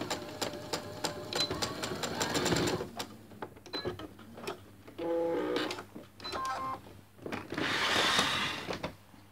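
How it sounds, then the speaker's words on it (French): A sewing machine stitches a mitred hem seam with rapid mechanical rattling in several bursts, pausing between runs, with close, moderately loud clicks and whirring. "je peux baisser le pied et faire ma couture avec mes points d'arrêt"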